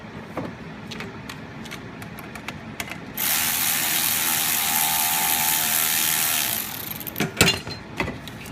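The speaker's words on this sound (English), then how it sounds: "Now I go ahead and use a 10 mil socket, and I'll remove the alternator off of the positive side of the battery." A 10 mm socket ratchet loosens an alternator bolt on a 6.0 Powerstroke engine, with scattered clicks and then a sustained rapid ratcheting whirr for several seconds, close and loud, ending in a few clunks.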